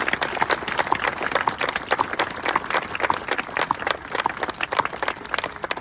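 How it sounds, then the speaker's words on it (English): An outdoor audience at a memorial gives a round of applause, dense continuous clapping from many hands at steady, fairly loud level. "can we have a round of applause for Peter for his terrific work?"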